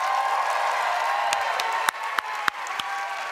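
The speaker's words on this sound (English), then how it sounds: "you're gonna applaud if you think they're the winner" Audience at an Ignite Phoenix slideshow karaoke event applauding: a steady wash of crowd clapping and cheering runs throughout, with a few sharper isolated claps standing out near the end.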